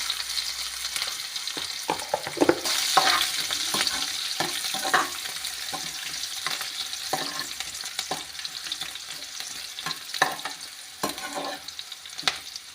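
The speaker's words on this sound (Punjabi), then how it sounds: "ਆਪਾਂ ਜੀ ਪਿਆਜ਼ਾਂ ਨੂੰ ਫਰਾਈ ਕਰ ਰਹੇ ਹਾਂ ਇਹਨਾਂ ਦਾ ਲਾਈਟ ਬਰਾਊਨ ਜਿਹਾ ਕਲਰ ਕਰਨਾ" Onions fry in a pan with kalonji seeds, a steady close sizzle broken by repeated scraping clacks of a spoon stirring through the mixture, with no talking.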